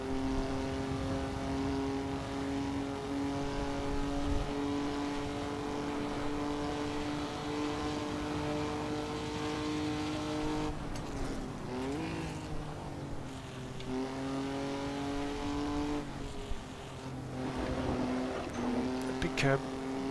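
Race car engine in the Assetto Corsa racing game at a virtual Goodwood Revival, droning steadily at high revs, then dropping and climbing again through downshifts with rev matching, with a voice talking over it.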